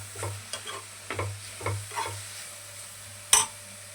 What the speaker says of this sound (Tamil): இது நல்லா கிளறி கொடுத்து கொஞ்சம் தக்காளி வதங்கட்டும்